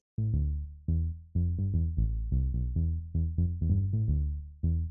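A deep synth bass plays a rhythmic pattern of plucky notes with a heavy low end, each note decaying quickly, heard alone without voices.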